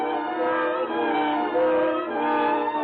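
A train pulls out of the station as a radio drama effect, its steady mechanical rumble with tonal hum and whistle-like overtones rolling on continuously, fairly close and loud.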